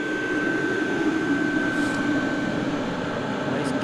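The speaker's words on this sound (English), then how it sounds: "Nice diesel heater." Diesel heater running at a winter camp in the dark at minus fourteen degrees, a steady close drone with a thin constant whine on top, continuous and unbroken.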